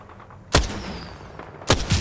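Shots in the battle-royale game Apex Legends: a single loud, close crack, then two more sharp reports in quick succession near the end, over a quiet low background.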